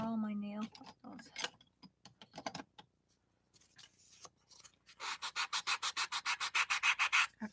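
Coarse sandpaper of about 80 grit scrapes a chess piece by hand, at first in scattered strokes and then in a quick, regular run of close, gritty rubs, with a brief voice near the start.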